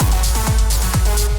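A full, wide layered hi-hat sample for cosmic techno, sounding as a loud continuous wash of bright noise over a steady low throb, pulsing in a quick repeating pattern.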